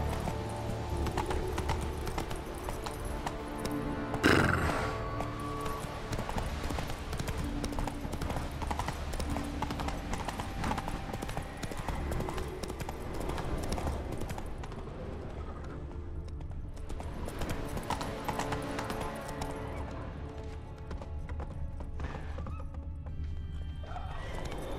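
Hooves of Roach, a horse in The Witcher 3, drum in a steady fast gallop throughout, with a loud whinny early on, all under a dense game soundtrack with a short spoken line.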